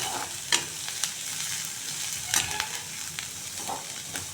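Chopped onion and small shallots sautéing in a pan, a steady close sizzle with several sharp scraping stirs of a spoon against the pan, no voices.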